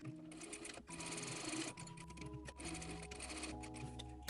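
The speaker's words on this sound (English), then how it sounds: "I'm just going to pull this underneath the sewing machine so nothing folds and wrinkles up on the inside here" A sewing machine stitches satin fabric for a blouse, running in a steady continuous whir close by, with brief pauses and restarts.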